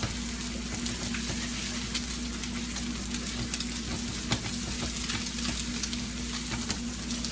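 Eggs frying in olive oil for hibachi rice, a constant crackling sizzle with light spatula scrapes as they are stirred, close and steady.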